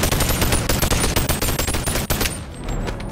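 Rapid automatic gunfire from a fully customizable MK18 rifle in the VR game Bonelab, a dense burst of loud, closely spaced shots that stops near the end, leaving a brief ringing tail.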